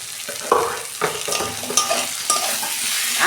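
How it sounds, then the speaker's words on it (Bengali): Gathi taro and hilsa fish head are sautéed with a little sugar in a hot pan, giving a close, continuous sizzle broken by repeated scraping stirs about every half second. "আর 2 মিনিট আমি কষাবো।"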